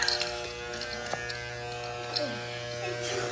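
An electric shaver buzzes steadily and close while shaving hair on the side of a woman's head, a constant hum with scraping variations, as people talk around it.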